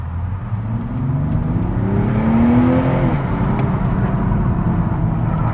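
A Toyota Supra MK5 under way: a steady engine drone with a rev that climbs and then drops midway, heard alone without voices.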